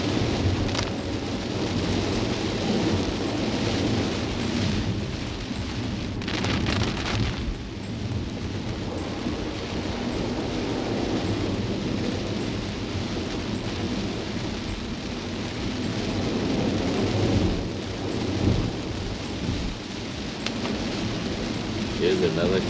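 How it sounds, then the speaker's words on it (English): Very heavy rain pounds a Kia EV6 driving the wet, misty Genting road, a continuous dense roar of water on the car with deep rumbling underneath, steady throughout with a few surges. "It's raining very, very heavily, and you hear nothing but the rain."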